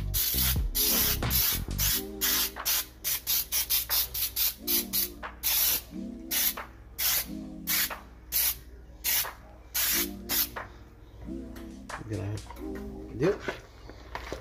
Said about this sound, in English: We're gonna spray it with some Baker's Joy.